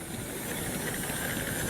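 OO gauge model train running slightly fast on a loft layout, its wheels in need of cleaning; a steady, continuous hiss and rumble with no breaks, fairly loud and close.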